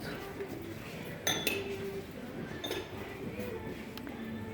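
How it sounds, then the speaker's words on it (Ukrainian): Faint, sparse clinks of dishes and cutlery being set down, a few sharper chinks standing out over low background noise. "Ось посуд розставляють"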